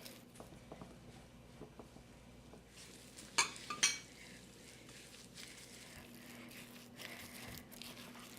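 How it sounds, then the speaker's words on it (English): A lemon mousse mixture folded into an almond tart filling, producing faint soft stirring and scraping in a bowl with a couple of louder clinks of utensil against the dish. "And we want to mix that in now."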